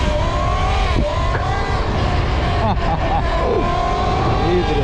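A Talaria MX5 electric motorbike whines steadily and loudly while riding, its motor pitch rising and falling with throttle, close and continuous with wind noise.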